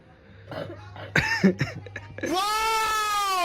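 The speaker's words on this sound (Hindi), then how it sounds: "क्या हो गया, खांसी हो रही है?" A feverish young girl gives a short burst of close, harsh coughs, then a drawn-out whining tone follows.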